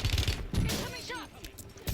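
Gunfire in the Call of Duty Black Ops 6 video game, a brief loud burst of shots up close, mixed with game announcer voice lines.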